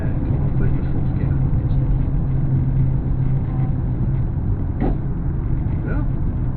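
Inside a car on a learner driver's first lesson, a low steady engine rumble fills the cabin while the learner shifts into fourth gear, with voices talking faintly over the drone.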